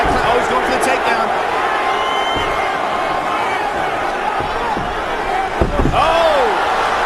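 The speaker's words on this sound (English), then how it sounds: "Oh, he's going for the takedown." Ken Shamrock taken down and slammed to the mat by Tito Ortiz in an MMA cage bout, a single dull thud landing under a loud, steady arena crowd roar and chanting that rises slightly right after the impact.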